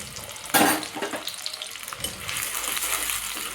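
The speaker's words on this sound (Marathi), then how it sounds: "चांगली भाजून घ्यायची व्यवस्थित." Onion and chilli fry in hot oil, a loud burst of sizzling crackle at first that settles into a steady, close hiss with light stirring scrapes throughout.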